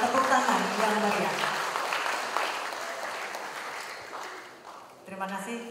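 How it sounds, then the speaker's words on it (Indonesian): Audience applause fills a hall at a legal-awareness award ceremony in Jakarta, a dense, sustained clapping that gradually fades toward the end as a voice begins speaking over it. "Boleh kita berikan tepuk tangan yang meriah."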